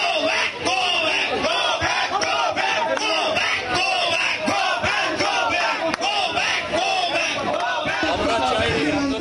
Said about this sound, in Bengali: তখনই তাকে ঘিরে ধরে গো ব্যাক স্লোগান দেওয়া হয়।